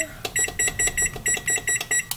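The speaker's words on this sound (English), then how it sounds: "I'm now going to set my timer" Rapid electronic beeping from a timer, repeating in quick regular bursts, close and fairly loud, with no talking.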